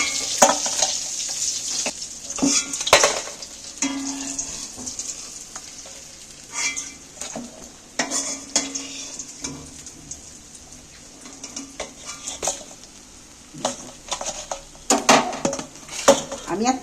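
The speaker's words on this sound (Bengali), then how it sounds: "মাছগুলো আমার ভালো করে ভেজে নিয়েছি এইবার তুলে নেব তেল ছাড়িয়ে তুলে নেব" Fried rohu fish being lifted out of hot oil in a pan, with a steady sizzle broken by repeated clinks and scrapes of a utensil against the pan, and a voice now and then.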